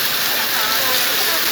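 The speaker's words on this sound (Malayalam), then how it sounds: "ഇതാ അടിപൊളി മഴയായി വേനൽ മഴ ഇറങ്ങിയിരിക്കുകയാണ്" Heavy summer rain pours steadily as a dense, loud wash of noise with no break.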